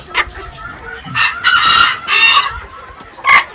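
Mini bantam chickens and roosters crow and cluck nearby in loud, bright bursts. Short clucks come first, then two long crows and a final sharp call, with no speech.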